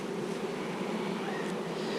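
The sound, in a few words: honey bees buzzing at a hive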